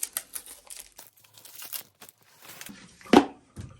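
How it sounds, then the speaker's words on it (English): Plastic packaging on a new reverse osmosis water filter crinkles and tears open in a series of faint, close rustles, ending in one sharper rip near the end. "open the new filter"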